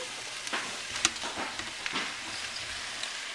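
Browned beef pieces go back into a hot Dutch oven for a family beef stew, setting off a soft, even sizzle with a few sharper crackles and pops, close by and without talk.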